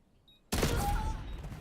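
A single loud sniper rifle shot in Call of Duty, with a sharp onset and a dense blast that carries on through a long, ringing echo tail.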